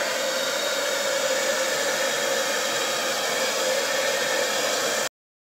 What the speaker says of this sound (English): I'm going to use my hairdryer to cover the canvas.